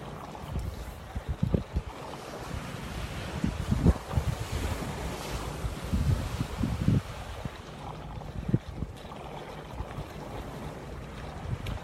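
Ocean surf and wind on the beach at the Sheraton Maui on an overcast morning, a steady rushing roar with gusty microphone buffeting and occasional louder wave surges, no voices present.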